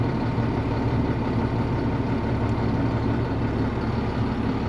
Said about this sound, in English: We've got to let the tractor warm up for about 5 or 10 or so minutes.